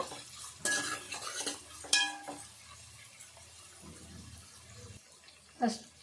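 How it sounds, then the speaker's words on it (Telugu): A spatula stirs sliced onions and leaves frying in a pan while a tomato chicken curry is being made, giving a few scraping strokes at intervals over a low, steady sizzle. "ఇప్పుడు కలుపుకుందాము ఇవన్నీ మంచిగా దోరగా వేగాలి ఈ ఉల్లిపాయలు ఈ ఆకులు"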